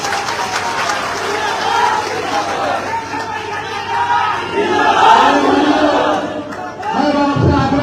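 A crowd at a political public meeting in Mirzapur shouts and murmurs in a swelling, uneven din, with scattered claps and raised voices building toward the end.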